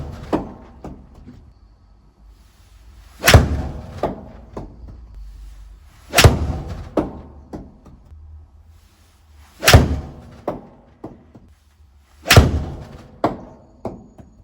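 Four sharp, loud strikes of Srixon ZX7 irons hitting golf balls indoors, evenly spaced a few seconds apart, each a crisp impact with a short thud after it and quieter knocks and shuffling in between.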